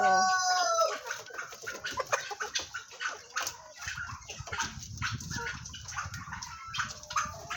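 Chickens on a farm cluck and a rooster crows, a busy run of short calls up close with a low rumble of other livestock beneath, no talking.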